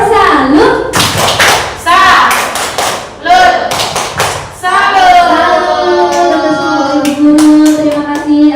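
Tepuk salut clapping chant at the close of a school positive-culture dissemination session: a group beats out rhythmic handclaps and taps in short bursts, mixed with chanting voices, fairly loud and close.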